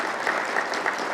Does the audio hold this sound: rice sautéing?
no